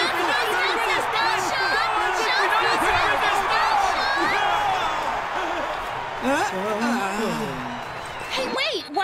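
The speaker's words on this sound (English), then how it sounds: "I bet those cheers are for us" A big stadium crowd cheering during a cartoon football match, steady roaring and clapping throughout, with voices calling out and talking over the din before it thins toward the end.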